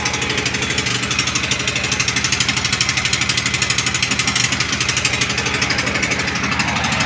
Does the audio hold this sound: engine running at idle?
yes